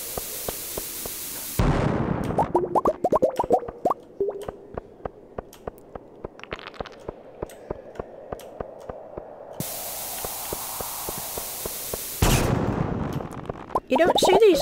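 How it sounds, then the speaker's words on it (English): Bombs going off in the Stardew Valley mines: a series of sharp, short game blasts and clicks in quick succession, with brief bursts of loud noise at the start and end, over quiet background game music. "Do a bit of bombing down here"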